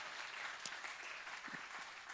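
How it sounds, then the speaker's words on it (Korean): A faint, steady wash of audience applause for the organizers and staff of a two-day summer retreat, heard at a university committee gathering, with scattered claps continuing evenly throughout. "우리 감사의 박수를 또 치도록"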